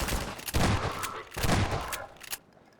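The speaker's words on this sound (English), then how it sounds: "Shotguns are a lot more effective against soldiers in this game than in Half-Life 1." Two loud, close shotgun blasts about a second apart in the Half-Life 2 video game, each with a booming rumble that tails off, as soldiers are fired on.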